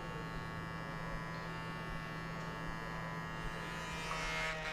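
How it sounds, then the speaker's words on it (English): Hair clippers run without a guard at the zero setting during a hard-part taper haircut in a barbershop, giving a steady, close electric buzz with a faint scraping edge throughout. "Sometimes I'll go in with my clippers too, with no guard, just 0."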